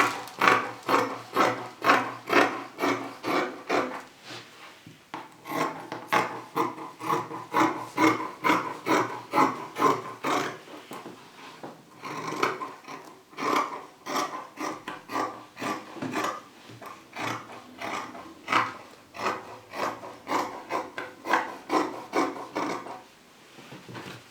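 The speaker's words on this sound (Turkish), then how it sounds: "Şimdi yine aynı şekilde birer santim payda şekilde şöyle kesiyorum." Shirt fabric being cut with scissors, close-up, a fast rhythmic series of crisp snips in bursts with short pauses between runs, fairly quiet and with no speech.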